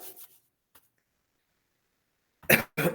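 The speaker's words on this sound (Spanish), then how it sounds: "una tosecita así" Near silence with a faint rustle, then two quick small coughs close together, short and sharp.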